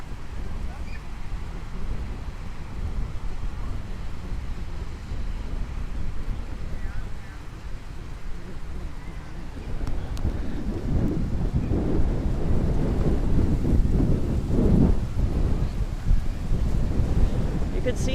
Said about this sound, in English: I hope there's not too much wind noise. I do have a muff on, but it's extremely windy.